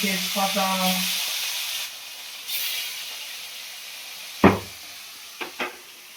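A bay leaf sizzles in hot oil in a wok, a soft steady frying hiss that fades over a few seconds, followed by a couple of sharp clanks of a utensil against the wok.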